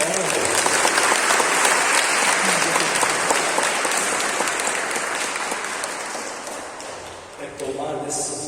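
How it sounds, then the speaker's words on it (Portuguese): A church congregation claps and cheers in sustained applause that fades gradually, then a voice begins speaking near the end. "Salve de palmas."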